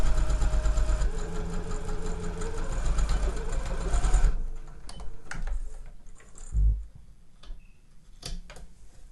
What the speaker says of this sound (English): so I've sewn all the way along there, and I've cornered up around the pocket, back down again to the end.